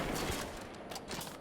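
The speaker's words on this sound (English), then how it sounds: "start unloading those grenades" Grenades going off in rapid succession in the video game Destiny 2, a dense, continuous barrage of blasts and gunfire-like bursts in a busy combat mix, fairly quiet overall.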